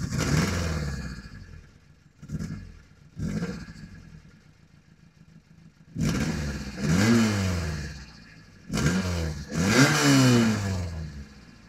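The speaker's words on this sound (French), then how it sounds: "démarrage du double carbu." A 1979 Peugeot 104 ZS2 with a twin-carburettor engine revving in several sharp bursts separated by quieter idling, each rev rising and falling in pitch, loud and close with no talk.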